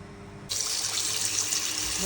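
Freshly boiled liquid starts pouring after a brief pause, a steady rushing splash that continues evenly to the end.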